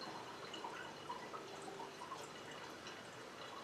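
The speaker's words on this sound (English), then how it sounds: "You just keep filling them up." Spirit from a home distilling run is poured into bottles during proofing and bottling, giving a steady, faint trickle and dripping of liquid throughout with no talk.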